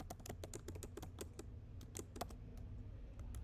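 Rapid keystrokes on a computer keyboard while JavaScript code is typed, a dense run of crisp clicks with uneven rhythm over steady low hum, close and fairly quiet, no talking.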